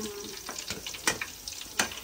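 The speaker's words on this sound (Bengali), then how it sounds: "আস্তে আস্তে লাল লাল করে ভেজে নিতে হবে" Pieces of food fry slowly in hot oil until reddish, before going into syrup: a steady low crackling sizzle with sharper pops and stir scrapes every half second or so, close by, with no talking.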